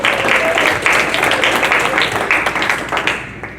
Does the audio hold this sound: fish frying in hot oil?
no